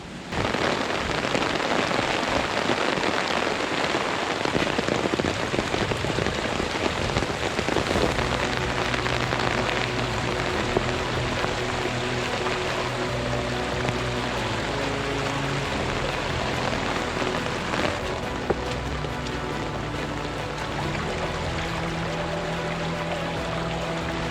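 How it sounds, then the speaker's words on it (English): Heavy rain falls on an off-grid homestead farm in Portugal after a storm, a steady, dense, continuous downpour that is close and loud throughout, with no voices. "I didn't realize it rained this much."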